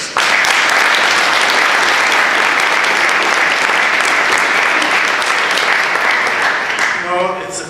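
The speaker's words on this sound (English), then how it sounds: "Let's applaud them." Sustained, loud audience applause filling a large welcome-and-introduction gathering in New York, dense and steady throughout before tapering off at the very end.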